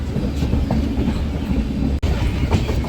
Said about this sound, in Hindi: हमारी ट्रेन का शेड्यूल टाइम से 3 मिनट की देरी से निकल रही है पटना जंक्शन से